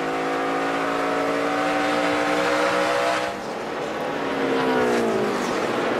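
NASCAR race cars in the 2012 Pioneer Hi-Bred 250 roar past on the track, with steady loud engine drones that shift in pitch as cars pass close by.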